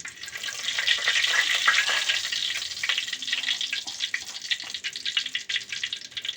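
Whole spices sizzling in hot oil in a pan for a chicken curry, a dense, steady crackling hiss that stays loud and busy throughout.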